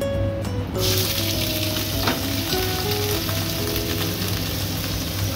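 Whole cumin seeds, raw onion and tomato frying in oil in a home kitchen for an egg roll filling, giving a steady, close, loud sizzle with crackling throughout and no voices.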